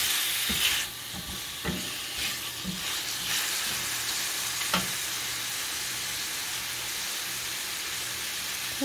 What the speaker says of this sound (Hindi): हल्का सा इसको 2 मिनट फ्राई करें।